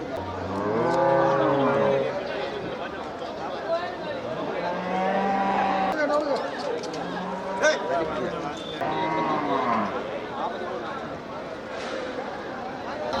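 Hill cattle lowing repeatedly at a busy cattle market, several loud drawn-out moos overlapping one another amid the crowd's background chatter and bustle, with people talking throughout.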